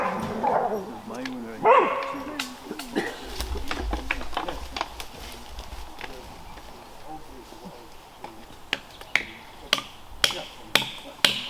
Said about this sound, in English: if you can hear it over the sound of dogs barking